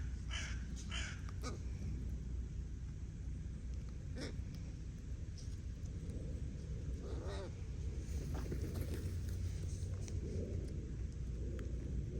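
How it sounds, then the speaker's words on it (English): A crow caws several times, harsh calls in a quick cluster near the start, then scattered single caws, heard outdoors over a constant rumbling wind-like background. "Crow is enjoying the eggshells."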